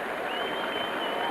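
A rugby league crowd at a Workington Town match applauds and cheers after a try, a dense, steady roar of clapping filling the whole moment without a break.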